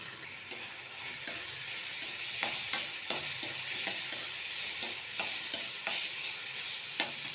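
Onions and tomatoes with green chillies and garlic sautéing in a pan for a Tamil keerai puli kootu, a steady soft sizzle under repeated sharp clicks and scrapes of a spoon stirring, close and alone.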